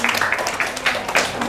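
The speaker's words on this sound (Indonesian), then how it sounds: "tepuk tangan untuk kelompok 1" Students in a classroom give group 1 a short burst of applause, loud close clapping that fills the whole moment.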